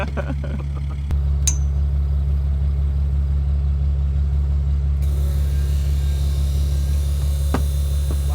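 A new fuel pump on a farm fuel trailer runs with a steady, loud low hum that continues unchanged throughout, with a sharp knock at the start and a few faint clicks.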